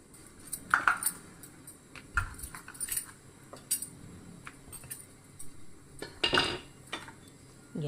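A metal tawa griddle is set down on a gas stove in a home kitchen. Scattered metallic clinks and clatters of cookware come at irregular intervals, close by and with no one talking.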